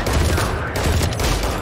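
Loud, sustained gunfire from a weapon in Valorant, rapid shots running together into a continuous burst across the whole moment.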